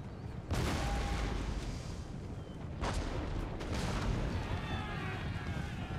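Cannon artillery fire during a battle in Napoleon Total War, heavy booming blasts with a dense rumbling battlefield bed, a sharp onset near the start and another strong report around the middle, sustained and loud throughout.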